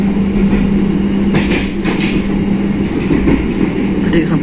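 Inside an Argo Parahyangan passenger train on the Bandung to Gambir run, a loud, steady low rumble and rattle of the carriage rolls on continuously, with faint clatters on top.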